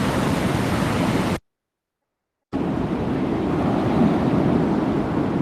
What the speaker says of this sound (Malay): boleh dengar kan suara ombak tu?